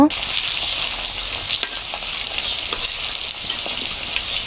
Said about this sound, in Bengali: এখানে দেখতে পাচ্ছেন আমার আলু ভাজাগুলো আস্তে আস্তে হয়ে এসেছে